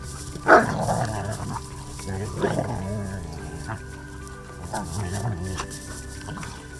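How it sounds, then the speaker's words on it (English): Dogs play fight in an open field, growling and snarling in close, rough bursts that rise and fall over a steady outdoor background, with a voice talking at times. "For some reason the dogs want to do this play fighting again."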